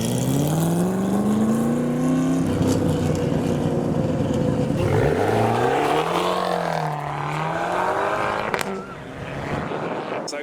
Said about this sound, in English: And now the final GT40 of the trio that were at the show.